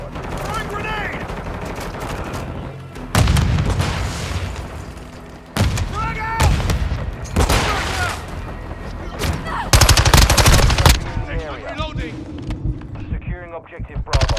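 A thrown grenade and gunfire in a Call of Duty Modern Warfare II match: loud bursts of rapid shots and heavy booms come in clusters, with game voice callouts and effects between them, close and intense throughout.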